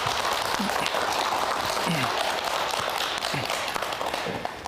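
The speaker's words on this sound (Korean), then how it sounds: "박수 부탁드립니다." Audience applause from a crowd of listeners, mostly mothers, at a public eye-health lecture by an ophthalmology professor, a steady broadband wash of clapping with a few faint voices underneath, fading slightly at the end.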